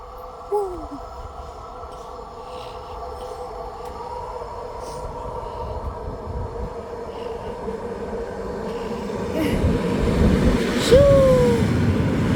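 A train rolls past a trackside spot among trees about ten metres away, a loud rumble building over the seconds, joined near the end by a sharp horn-like squeal and heavy wheel noise.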